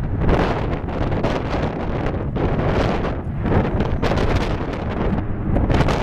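Strong gusty wind buffeting the microphone at Atlanta Hartsfield airport, a loud continuous roar with rumbling surges and no clear voices.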